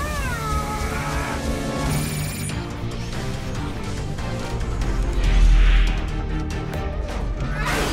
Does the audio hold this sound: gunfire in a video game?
no